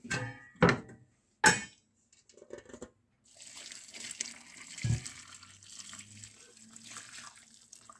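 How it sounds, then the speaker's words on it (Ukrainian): Marinade is poured over layered peppers and garlic in a jar, giving a steady close splashing trickle for several seconds after a few sharp knocks and clinks. "Додаємо ще зверху часник і заливаємо маринадом."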